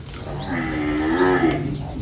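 A Jafarabadi buffalo gives a single drawn-out low moo close by while being milked, lasting about a second amid quiet barn background.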